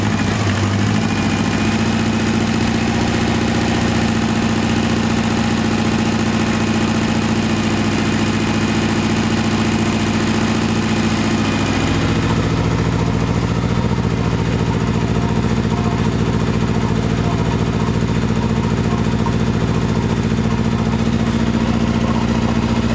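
Factory Five 818 kit car engine runs at a loud, steady idle after its first start, a continuous close rumble with constant vibration throughout and a slight change in tone partway.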